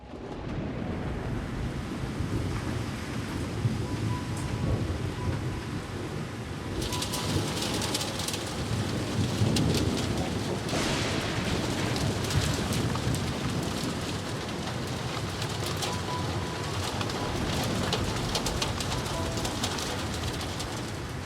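Steady rain pours down throughout, with heavier hissing patches and distant thunder rumbling underneath.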